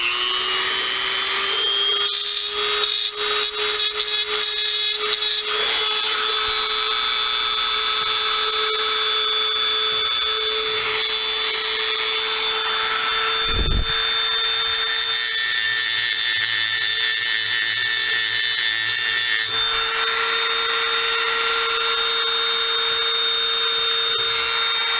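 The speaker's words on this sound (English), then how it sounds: "Get it with my Dremel here." A Dremel rotary tool trims a dirt bike cylinder part with a steady, loud high-pitched whine that runs almost unbroken throughout, its pitch shifting slightly as the bit bites into the metal.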